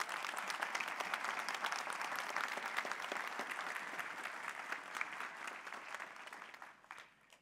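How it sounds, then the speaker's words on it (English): A church congregation applauds after a baptism during a worship service, steady moderate clapping that holds for several seconds before tapering off at the end. "Let's applaud for them."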